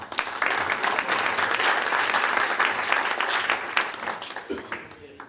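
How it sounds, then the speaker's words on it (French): A room of conference attendees at a Gers chamber of commerce colloquium claps for several seconds, dense and fairly close, with faint voices mixed in before it tapers. "Ce sont des applaudissements timides"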